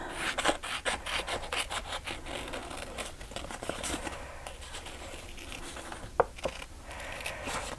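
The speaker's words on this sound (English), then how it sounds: "now I'm going to cut those out." Scissors snip through paper, cutting out heart shapes for a pop-up Mother's Day card, with a steady run of close, soft crisp cuts and rustling throughout, one sharper snip near the end.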